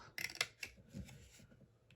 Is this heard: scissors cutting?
yes